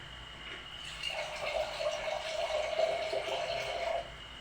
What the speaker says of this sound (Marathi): थोडंसं पाणी घालू आपण.